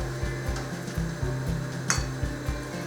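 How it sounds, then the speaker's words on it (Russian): Flour-breaded rabbit pieces fry in a pan with a constant crackling sizzle, a rhythmic low thumping underneath, and an occasional clink of a utensil. "Далее нам нужно запанировать нашего кролика в муке и отправить его на сковородку."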